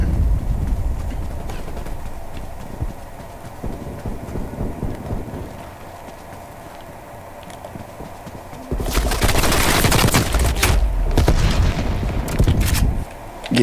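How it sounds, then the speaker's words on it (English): Gunfire in Call of Duty: Black Ops Cold War, first as scattered muffled shots under a low ambient rumble, then a loud, dense barrage of crackling shots and impacts near the end. "Getting shot from 13 different directions."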